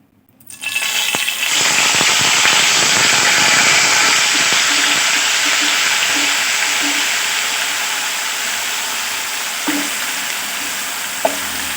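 Onion paste hitting hot oil in a pan for fish curry, bursting into a loud, close, continuous sizzle that starts abruptly and keeps crackling steadily, easing slightly over time.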